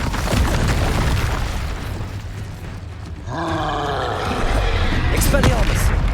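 In the Hogwarts Legacy video game an Incendio fire spell erupts as a loud explosive boom and roaring burst, with grunting combat noise and voices mixed among the layered battle sounds.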